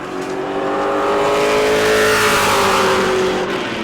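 A loud Pro Late Model race car engine roars steadily during qualifying at New Smyrna, its pitch climbing as it accelerates past, close and continuous throughout.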